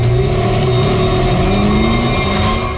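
A large red jeep-like car pulls away and accelerates, its engine note rising steadily for about three seconds, loud and close, with no voices over it.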